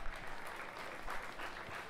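Audience applause at a small-town talent show, a steady wash of clapping from a seated crowd that holds at an even level for the whole stretch, with no voices over it.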